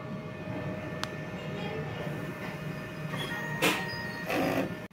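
A DTF printer running a print head cleaning cycle, a steady mechanical hum with faint tonal whine, a sharp click and short whooshing bursts of pump or carriage movement near the end.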